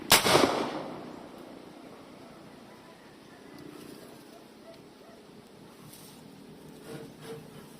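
A homemade bamboo or PVC boga cannon fires one sharp, loud blast at the very start, then the boom fades into a long echoing tail and quiet outdoor ambience.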